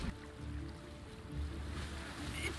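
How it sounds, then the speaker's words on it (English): A big wave in the animated series The Dragon Prince surges and washes in a rolling, rumbling swell, moderately loud and steady, with no voices over it. "That's a big wave."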